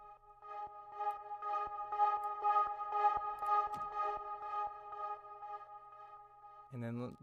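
An old sample run through the DROP plugin with its motion modulated by a sine wave, a bright tonal texture that pulses rhythmically and evenly for several seconds before a short burst of voice at the end.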